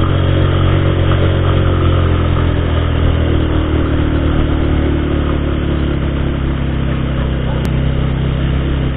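A motorcycle engine labours steadily under load as it climbs a steep mountain road toward Baguio, a continuous close, rumbling drone with slight variation and no voices over it.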